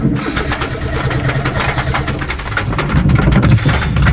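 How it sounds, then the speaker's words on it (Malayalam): A motorbike engine cranks and catches with a slight misfire, settling into a loud, close, uneven mid-pitched running chug that swells a little toward the end. "വണ്ടി സ്റ്റാർട്ട് ചെയ്യുമ്പോൾ തന്നെ ചെറിയ രീതിയിൽ മിസ്സിങ് ഉണ്ട് ഗൈസ്"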